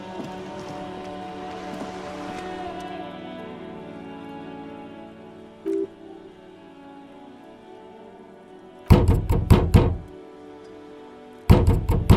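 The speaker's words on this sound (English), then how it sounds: "Stop banging on the door." Heavy banging on a door in Disco Elysium, two bursts of rapid loud knocks near the end after a quiet stretch with ambient music and a single soft thud.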